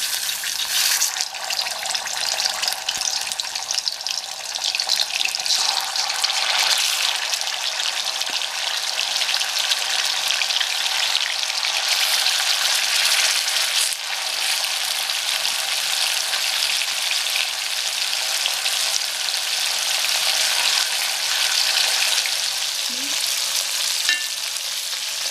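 Tuna fish, South Indian style, frying in hot oil over a medium flame: a steady, close, even sizzle with fine crackling holds for the full length, with no talk.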